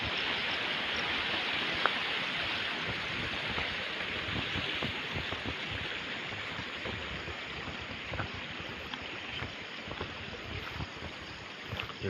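A hillside stream rushes past a quiet village road amid green countryside, a continuous, even wash of flowing water with small splashes throughout and no voices.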